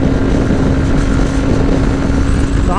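Honda CB200X motorcycle running fast in fifth gear, with a loud, steady roar of wind blast and engine drone filling the sound, continuous and unbroken, with no speech.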